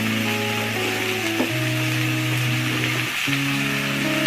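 Chopped vegetables, papaya, taro and dried fish, sizzle steadily in a hot pan on a home stove while being stirred, a loud continuous frying hiss with a low hum and scraping stir sounds.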